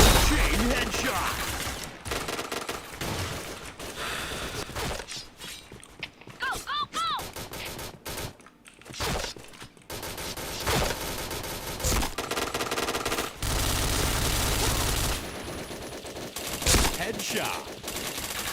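Rapid bursts of automatic gunfire and single shots fill a video game shooter match, loud and nearly continuous, with brief lulls and occasional speech mixed in.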